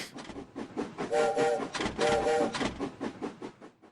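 A train passes, loud rumbling and clattering carriages with two sustained whistle blasts midway, the rhythmic clatter fading toward the end.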